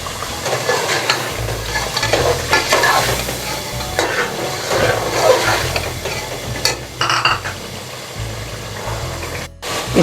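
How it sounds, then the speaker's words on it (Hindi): Spice masala and small chopped gourd pieces fry in a pan, a continuous sizzle with frequent spoon stirs and scrapes, close up and fairly loud, a low hum beneath and no talking. "ये हम इसको इसमें डाल रहे हैं और इसे भूनेंगे अच्छी तरह"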